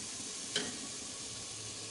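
Tomatoes cooking down in a pan for a veal meat dish, giving a faint, steady sizzle with one brief stir or clink partway through.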